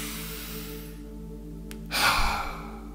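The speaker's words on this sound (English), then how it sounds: "And then we take a nice deep breath." A single slow, deep breath, drawn in and released close to the microphone over a quiet background hum, with no talking.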